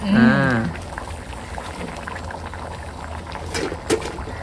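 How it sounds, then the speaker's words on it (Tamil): A pot of fish curry bubbles and simmers at a steady low roll, with a brief voice-like tone at the start and a few soft clinks later. "செம்மையாக கொதிக்குது"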